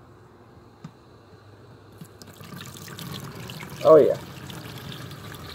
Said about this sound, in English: I'm going to refilter everything through the colander back into the beaker